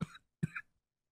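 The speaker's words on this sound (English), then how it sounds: "Excuse me for all the coughing here" Two short, sharp coughs from a man with a cold brought on by weather change, close and fairly loud, separated by a brief pause, with silence after.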